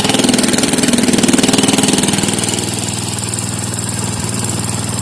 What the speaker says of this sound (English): See what it sounds like before and after muffler.